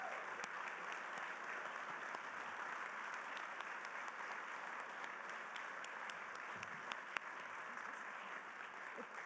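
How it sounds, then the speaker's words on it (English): Sustained audience applause at a Business Hall of Fame luncheon honoring inductees, steady dense clapping from a large crowd filling the whole stretch at an even level, with no voices standing out. "Let's give them a big round of applause, ladies and gentlemen."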